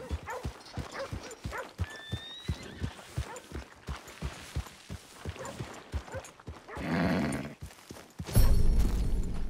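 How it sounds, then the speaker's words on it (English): A horse gallops in the Red Dead Redemption 2 video game with a steady rhythm of hoofbeats, and a whinny and a louder burst of movement come near the end. "You've bonded with this horse, it will now respond to Bristol's commands"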